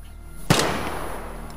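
A single sharp gunshot from a no-frills iron-sight gun in the Vigor video game, one loud close crack with a decaying tail and no talk over it.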